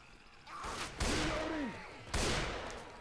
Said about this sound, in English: Deploying explosive round